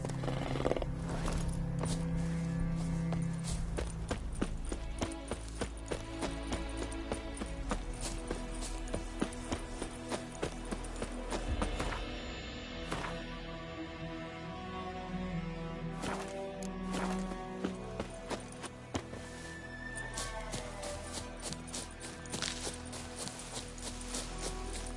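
A ridden horse in the Witcher 3 video game trots with steady clip-clop hooves, and whinnies ring out above the hoofbeats over game music.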